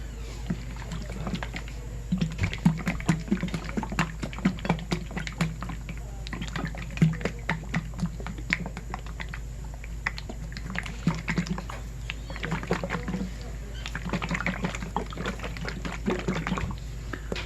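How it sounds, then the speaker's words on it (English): A jar of Mayco Stoneware crystal glaze with its lid screwed on tight is shaken, giving a long run of close, irregular sloshing and rattling taps with brief pauses. "I'm going to go ahead and actually put my lid back on nice and tight and shake it up"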